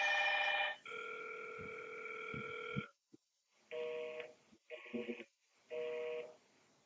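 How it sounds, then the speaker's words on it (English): Several Hikvision indoor intercom monitors ring together, giving bursts of electronic tones: a long sustained ring, a short gap with a faint click, then three shorter chiming bursts separated by brief silences, fairly close and clear, with no talking. "Let's just press the button. And we'll see they're all ringing and all being enabled at the same time."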